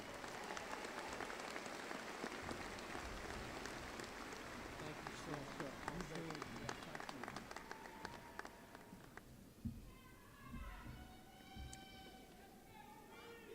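An audience at a Lamar University graduation ceremony for the colleges of arts, sciences, fine arts and communication gives a long, steady applause that thins near the end, when a voice begins speaking over the last claps.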